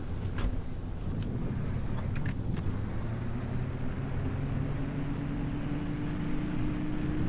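A car engine in the video game Pacific Drive hums steadily at low volume, with faint electronic game-like noise and a few brief clicks near the start.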